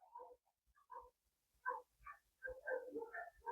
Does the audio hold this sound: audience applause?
no